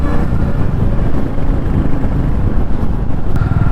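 Royal Enfield Goan Classic 350 motorcycle ridden in second gear, loud continuous engine thrum mixed with heavy wind buffeting on the microphone.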